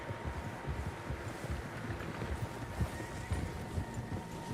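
Many horses' hooves clopping in a dense, continuous trot across open ground in Red Dead Redemption 2, with wind noise and a soft rumble underneath.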